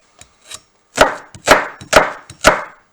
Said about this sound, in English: Let's cut those onions, shall we?